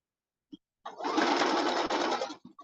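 A sewing machine runs a straight stitch along a seam on a colour-block hoodie, with one steady, dense whir of about a second and a half after a few faint clicks, close and moderately loud, then stopping with small handling taps.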